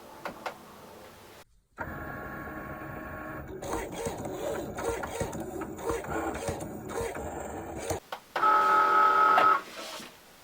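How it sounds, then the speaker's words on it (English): A Cricut Maker cutting cotton fabric loaded on a mat gives a whirring, buzzing motor run with shifting pitches and steady mechanical tones, ending in a higher sustained electronic whine; a voice speaks briefly near the start. "load my mat into my machine. And press go."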